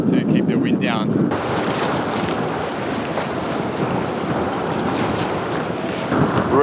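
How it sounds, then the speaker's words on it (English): Strong wind gusting across a sailing boat in choppy water off Istria, Croatia, a loud steady roar of buffeting and rushing air with waves and hull noise beneath it and no voices. "it's getting a bit blowy today"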